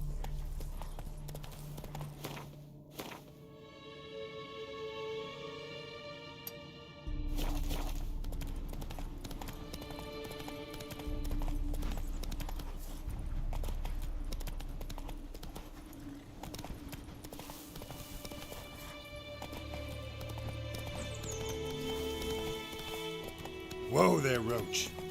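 Roach the horse gallops in The Witcher 3: Wild Hunt, a soft repeated hoof clatter running beneath game music and a voice talking.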